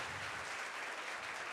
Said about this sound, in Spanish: Un aplauso para Spotify, por favor.